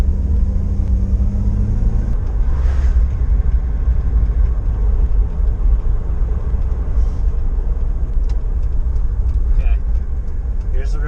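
A Jeep with its check engine light on for seven years cranks and runs, giving a loud, steady low rumble from close range that settles into an even idle, with a voice speaking over it.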